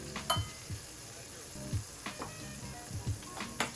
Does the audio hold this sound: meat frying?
yes